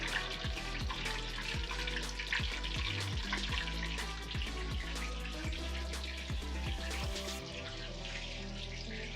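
Meatballs sizzle steadily in a hot pan on a dinner cooktop, a dense continuous crackle broken by sharp clicks and clatter of utensils, with running-water hiss beneath and no speech.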